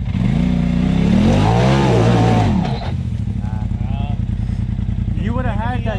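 A dirt bike revs hard and climbs a dirt bank on an off-road trail, its engine loud and close for a few seconds before dropping to a lower idle. A voice talks over it.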